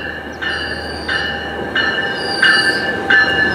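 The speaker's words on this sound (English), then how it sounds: "so we got an F-125 shoving this train." A Metrolink commuter train, pushed by an F-125 locomotive, rolls through Fullerton station with loud high-pitched wheel squeals that rise in repeated bursts over a steady rail rumble, close by.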